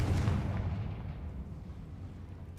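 A loud booming blast from the Confringo spell in Hogwarts Legacy erupts and then rolls away in a long rumbling tail.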